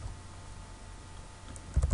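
Fingers tap out code on a computer keyboard for a Windows 8.1 app, a faint steady clatter that turns into a louder, quick burst of keystrokes near the end.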